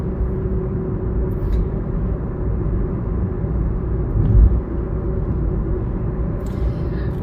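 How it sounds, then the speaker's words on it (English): A car rolls along at low speed, its engine giving off a steady low rumble with road noise underneath, fairly close and even throughout. "I feel my car protesting the lower speeds"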